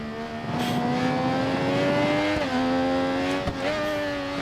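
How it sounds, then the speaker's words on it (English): A racing motorbike in Ride 4 on the Nordschleife circuit revs hard, its engine note climbing and dropping through quick gear changes, loud and close. "Absolutely pushing it, ragging it all over this Nordschleife circuit now."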